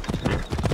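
Horse hooves clip-clop steadily in the video game Assassin's Creed Odyssey. The ride's quick, rhythmic thuds are loud and continuous, with no talking.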